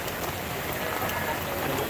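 Rain falls on a street at the Mohakhali rail gate in Dhaka, a steady, even hiss of drops with no break across the short stretch.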